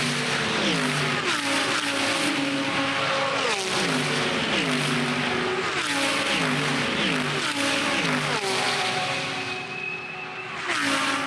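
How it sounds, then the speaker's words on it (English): Pack of race cars roaring off at the start of the Bathurst 12 Hour endurance race, loud layered engine notes rising and falling through gear changes as cars pass in waves, with no talk. "The sights and sounds of the 2024 Repco Bathurst 12 hours getting underway."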